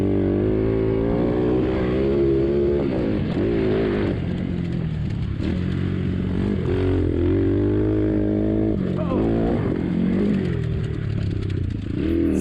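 A modded XPRO 150 DLX dirt bike running a new elevation-adjusting carb on a turn track, its small engine droning loudly and rising and falling with throttle through the turns, with no talk.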